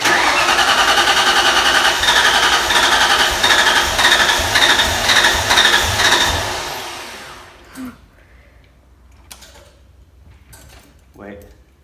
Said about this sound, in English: Did that Mustang start? For a second, but no fuel pump's going on now.